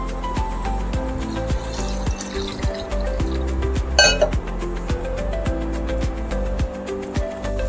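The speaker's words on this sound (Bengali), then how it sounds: "প্রথমে চালগুলোকে আমি ভালো করে ধুয়ে নেব।" Rice being washed by hand in a pot of water for biryani, with a steady run of close watery sloshing and grains and pot clinking rhythmically, and one louder splash partway through.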